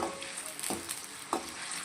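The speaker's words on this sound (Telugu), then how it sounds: "ఈ ఆలుగడ్డల్ని ఆయిల్లో ఫ్రై చేసుకున్నాము ఆయిల్లో ఫ్రై చేస్తున్నాం" Potatoes fry in hot oil with a steady, hissing sizzle, broken by a few sharp stirring clicks, close and fairly quiet.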